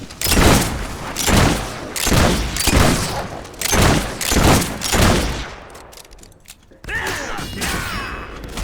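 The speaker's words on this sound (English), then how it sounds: "Fire magic!" Fire magic spells blasting in Fable 3, a series of loud, booming bursts in a steady rhythm, about one every half second, that break off into a short lull before a different rumbling effect starts up.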